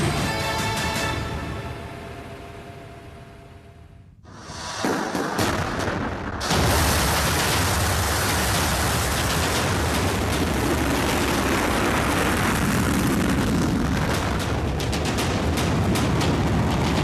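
A North Korean missile blasts off from a mobile launcher beside a frozen riverbank near Pyongyang, heard in broadcast footage. A low rumble rises into a sudden powerful roar that stays loud and continuous until the end.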